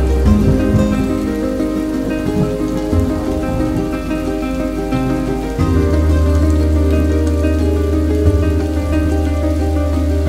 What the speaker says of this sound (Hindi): बारिश तो भाई साहब कंटिन्यू हुए जा रही है, रुकने का कोई सवाल नहीं है यहाँ पे